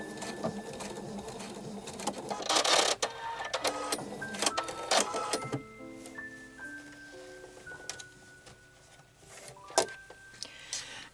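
A sewing machine runs a short back stitch while repairing a top with bad embroidery, buzzing in uneven bursts that start and stop, with a few clicks and a quieter stretch in between.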